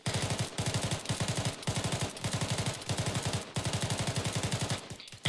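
Rapid automatic gunfire from a Marine joint training exercise comes in several long, loud bursts of fast repeating shots separated by brief pauses, close by and unbroken by talk.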